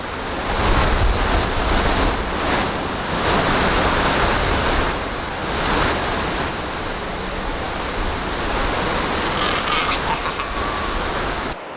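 Fast-flowing river water rushes loudly and steadily in Indiana crayfish and snake habitat, a dense, unbroken roar with no voices.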